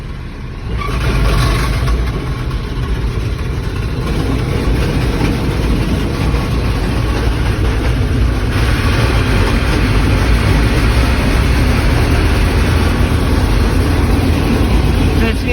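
A Claas Dominator 48 mini combine harvester runs with its threshing mechanism engaged, a loud, dense, continuous heavy drone with a low rumble that stays steady throughout.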